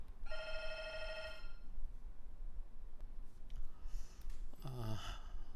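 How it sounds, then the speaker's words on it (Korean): A telephone rings once with an incoming consultation call, a bright electronic ringtone burst lasting about a second. Quiet room noise follows, then a brief snort-like breath near the end. "상담 전화가 와서"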